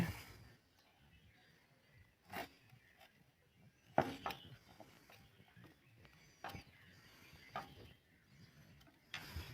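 Metal bolts on a 100 Excel motorcycle clutch cover being tightened with a bit, giving a close series of separate ratcheting clicks and ticks in short bursts with quiet gaps between them.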